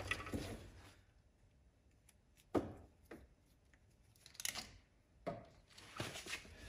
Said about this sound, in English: cut them off there.